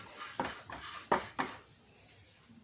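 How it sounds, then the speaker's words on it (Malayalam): Spice powders are stirred in a pan over a low flame, giving a few quiet, close scraping and clinking strokes of a utensil against the pan in an irregular rhythm. "ഈ പൊടികളൊക്കെ ഒന്ന് പച്ചമണം വിട്ട് കഴിയണ വരെ ഒന്ന് ഇളക്കിക്കൊണ്ടിരിക്കുക"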